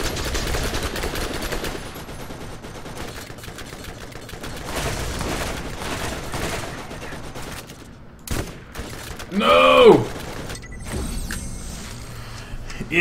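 Two turrets fire on the player in the Borderlands video game, rapid bursts of automatic gunfire with mechanical clatter, loud and close across the scene, punctuated by a sharp whooshing sweep.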